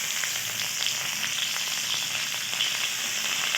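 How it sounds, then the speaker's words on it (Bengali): Carrots and onion sizzle and crackle steadily as they fry and get stirred in a pan, a close, continuous frying hiss with faint scraping and no talk. "গাজরটা একটু নেড়ে নেবো ভালো করে।"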